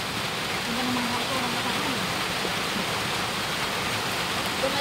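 Heavy rain pours steadily during a stormy outing, a dense, even hiss of downpour filling the scene from start to end, with faint voices underneath.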